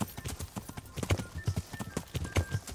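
Horse hooves gallop in the video game Kingdom Come Deliverance, a fast, even run of thudding clip-clop beats close by with no pauses.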